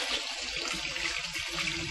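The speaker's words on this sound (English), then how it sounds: "I also like to rinse them to get some of the thick kind of canning liquid off of them" Tap water runs steadily over canned white beans being rinsed in a kitchen, a soft continuous splashing close by with no speech.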